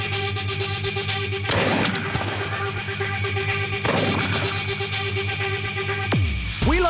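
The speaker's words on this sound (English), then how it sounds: "art is delivered by an air mortar at 80 miles an hour" Air mortar launching paint-filled condom bombs at 80 miles an hour, heard as two loud, sharp thumping blasts about two seconds apart over a steady mechanical hum, with a rising whoosh at the end.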